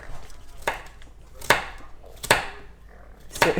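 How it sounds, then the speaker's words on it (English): Ingredients for egg rolls are chopped into small pieces: four sharp, evenly spaced knife strikes on a cutting board with quiet pauses between them. "So he's going to just chop these up into small pieces."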